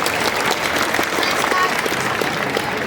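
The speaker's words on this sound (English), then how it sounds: "How about a round of applause for" Audience applause at a theme park bird show: dense, steady clapping from a large crowd fills the whole stretch, fairly close and even in loudness.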